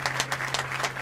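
Brief scattered clapping from a small group during an intimate music interview, a handful of distinct claps over a steady low hum, lasting about a second.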